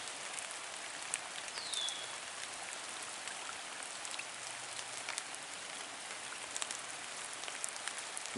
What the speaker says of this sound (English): Raindrops are falling on the pond,